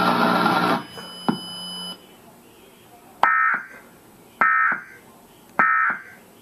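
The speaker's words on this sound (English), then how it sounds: "I just got Tornado Watch on TV, guys." Emergency Alert System tone broadcast on television for a tornado watch: a long harsh buzzing burst, then three short repeated electronic beeps at regular intervals, each ending with a click.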